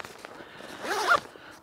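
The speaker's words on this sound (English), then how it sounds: "The only zipper this bag has is on the top pocket." A zipper on the top pocket of a lightweight camping backpack is pulled once, a short quick rasping zip close to the ear.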